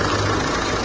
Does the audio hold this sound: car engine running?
yes